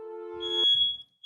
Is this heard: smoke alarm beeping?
yes